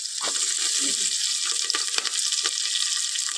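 Whole chillies fry in hot oil in a pan, making a steady high crackling sizzle close by, with a few soft clicks and stirring taps, and no talk.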